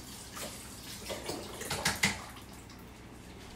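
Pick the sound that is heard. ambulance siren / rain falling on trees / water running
water running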